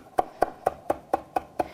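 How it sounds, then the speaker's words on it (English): A knife chopping fresh herbs for chimichurri sauce on a cutting board, seven crisp, evenly spaced strokes in a quick steady rhythm, close and clear with no talk. "Now that you've got it into a pile that you can manage, you can start the chopping process."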